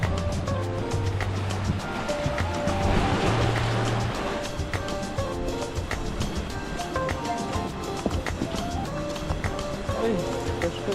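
Sea waves wash onto a shore with a steady broadband roar across the whole stretch, fairly close and loud, without distinct individual breaks.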